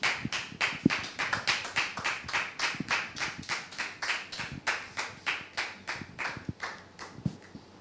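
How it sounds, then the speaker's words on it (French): A French TV studio audience claps in a steady, even rhythm of sharp, close hand claps for several seconds, with no talking. "Public, merci de le recevoir sous vos applaudissements"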